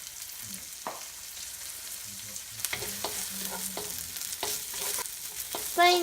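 Ginger, garlic, green chili and curry leaves sautéing in a pan for chicken masala rice, a soft steady sizzle with occasional stirring scrapes and a sharper crackle near the end.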